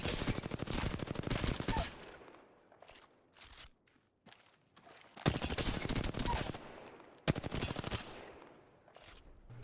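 Bursts of rapid automatic gunfire in the Apex Legends aim trainer, shooting down from a lift: three long loud volleys separated by a few short single shots and brief quiet gaps.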